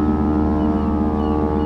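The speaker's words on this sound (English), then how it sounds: "Foghorn blasting made my heart race a little bit." A ship's foghorn blasts through winter fog near Venice, a loud, steady, deep horn tone that holds without a break for the whole stretch.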